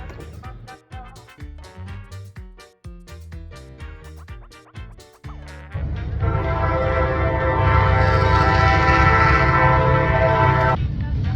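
A loud train horn blares steadily for several seconds over a heavy rumble, following a stretch of irregular clattering sounds.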